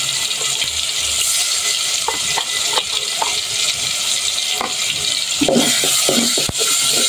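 Garlic paste fries in oil in a cooking pot, a loud, steady sizzling hiss with occasional soft clicks and spoon scrapes breaking through.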